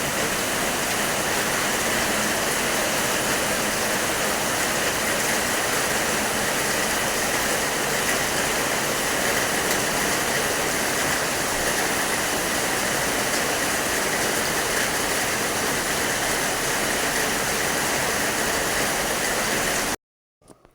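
Steady, dense roar of heavy rain pouring down, a constant broadband wash with no voices, ending abruptly in near silence with a couple of small knocks.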